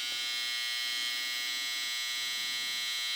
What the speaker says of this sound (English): This is a Babyliss boost trimmer.